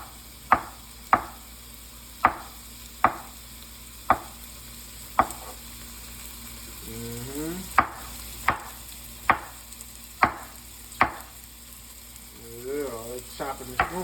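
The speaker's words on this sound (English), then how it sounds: "Cut these mushrooms next." A knife chops mushrooms on a board in sharp, evenly spaced strokes, about a dozen close cuts, with a faint sizzle of frying in the background.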